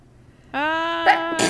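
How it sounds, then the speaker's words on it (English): One person sneezes: a drawn-out voiced 'ah' build-up breaks into a sharp, loud burst at the very end of the clip. "I gotta sneeze."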